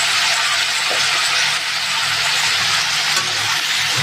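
Potatoes and onion stalks with turmeric fry in a pan, a steady loud hissing sizzle with no talking.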